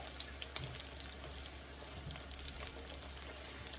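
A faint, steady frying hiss with scattered small pops and crackles, one sharper pop partway through, no voices.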